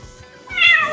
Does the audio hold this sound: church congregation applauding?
no